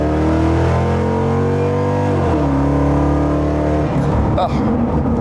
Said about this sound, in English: And the engine is actually coming alive.